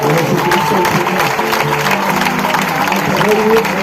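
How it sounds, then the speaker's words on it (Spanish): Congregation at a Spanish-language church service applauding for Jesus Christ, a sustained loud wash of clapping and crowd noise with voices mixed in throughout. "porque no le da el más excelente de los aplausos"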